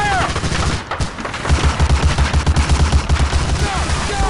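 Gunfire in the 2002 video game Medal of Honor: Allied Assault, with rapid machine-gun bursts firing in a fast steady rhythm, loud and close amid battle noise and a brief whistling sound.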